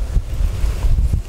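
Wind gusting outdoors around a boat on open marshland water during snakehead fishing, a steady low rumble with buffeting on the microphone and no voices.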